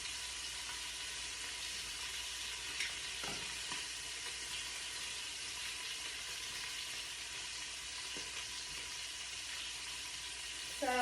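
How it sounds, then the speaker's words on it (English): Brisket sears in a hot pan with a steady, dense sizzle that continues unbroken, close up, with faint occasional clinks and no talk. "So this is the type of sear you're looking for on your meat."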